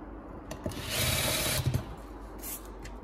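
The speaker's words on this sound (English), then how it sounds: "Start screwing these in." Short bursts of a power driver sinking screws with a square-drive bit while installing a range receptacle, a whirring buzz rising for about a second, followed by quieter clicks and handling noises.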